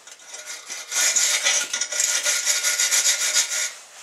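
A quick pass with a grinder over a fresh weld on a homemade tractor plow part, a harsh rasping scrape with repeated strokes that swells loud and holds steady for several seconds before easing off, with no talking.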